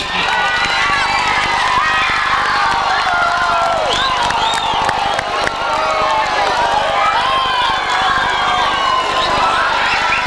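A crowd at a Bosnian sijelo folk gathering cheers and whistles for a singer, a dense, loud, continuous wash of voices and shrill calls lasting throughout.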